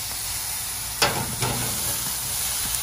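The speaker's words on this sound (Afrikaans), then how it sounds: "Ek gaan hulle nou een keer goed braai aan elke kant." Gemsbok steak sizzles on a braai grill with a steady hiss, punctuated by a couple of louder crackling bursts as the meat spits over the heat.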